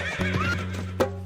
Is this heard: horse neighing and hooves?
yes